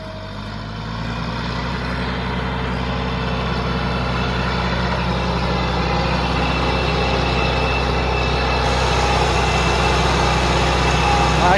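A Massey 385 tractor, a 2010 model, pulls an 18-disc harrow through a maize stubble field in high gear. Its diesel engine keeps up a steady, heavy, low drone that slowly grows louder, with no voices.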